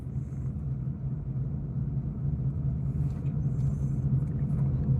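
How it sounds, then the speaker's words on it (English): A Mercedes-Benz car with a worn wheel bearing and rear brakes cruises along a road at night, heard from inside as a steady, low engine and road rumble with no speech over it. "The Benz is riding pretty good tonight, folks."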